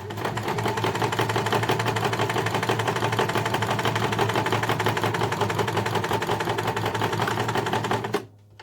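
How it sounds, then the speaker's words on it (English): A sewing machine runs steadily and close up, stitching a lining seam for a beauty pouch with a few reverse stitches to secure the end, a fast even mechanical chatter that stops abruptly at the finish. "I'm going to secure it, a few reverse stitches and finish off the row."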